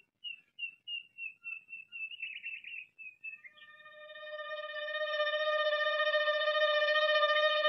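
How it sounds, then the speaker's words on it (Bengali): A mynah bird call in a comedy movie scene recreation opens with a quick series of rhythmic short chirps. A long, steady, ringing whistle-like tone follows and grows louder, clear and alone without talk. "ময়না, কাছে আয় না।"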